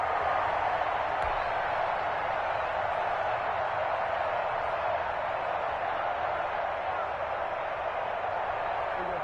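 A football stadium crowd cheering early in a game, a steady, full roar that holds throughout, with a commentator talking over it.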